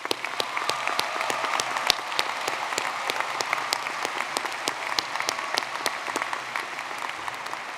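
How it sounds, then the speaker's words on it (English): A standing audience at the University of Wisconsin–Milwaukee 2024 spring commencement ceremony applauds graduates, a sustained roomful of clapping with crisp individual claps standing out against the steady wash, level and continuous throughout. "If you can all remain standing, we'd love to applaud you for the great work you've done."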